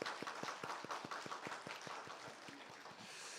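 A church congregation at a New Year thanksgiving service claps for the Hallelujah choir, a fairly quiet, roomy patter with a steady rhythmic beat, as if many people clap in time, that loosens and fades after a few seconds.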